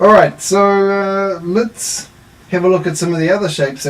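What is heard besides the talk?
No everyday noises stand out.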